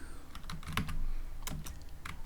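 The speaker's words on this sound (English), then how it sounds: "I'll type class" Keys clatter on a computer keyboard in quick, uneven taps, close and clear over a soft background hum.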